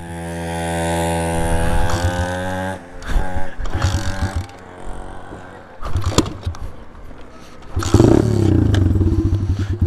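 Small dirt bikes of about 125 cc, such as a Taotao DB17, ride on dirt, with engines revving up and down in harmonic bursts and rising to loud acceleration, along with scraping and clattering.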